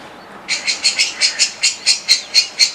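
A loud, close bird call repeats in quick, evenly spaced chirps, about eleven sharp notes in a row over a quiet background.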